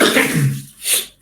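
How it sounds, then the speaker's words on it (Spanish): A single short, harsh cough from a person with a sore throat, loud and close, followed by a brief second burst. "estoy con un poco de dolor de garganta y a veces me agarra la tos"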